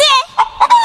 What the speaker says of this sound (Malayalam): എന്റെ പറമ്പിലാ ഈ കോഴി